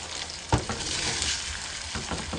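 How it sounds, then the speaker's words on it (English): Eggs are stirred and beaten directly in a hot pan for egg white wraps, a bright steady sizzle with a sharp utensil knock and repeated scraping strokes, close up and without talk. "I'm just going to stir these up and actually beat the eggs in the pan itself while they're cooking"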